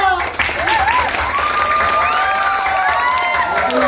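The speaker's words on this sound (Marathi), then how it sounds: "टाळ्या." A theatre audience at a Marathi comedy stage play applauds steadily, with crowd noise and a few cheers carrying on at a loud, even level.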